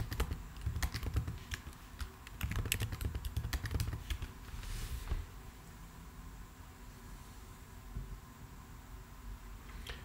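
Password being typed on a computer keyboard: a quick burst of key clicks, a pause, then another run of keystrokes, followed by quiet room hum.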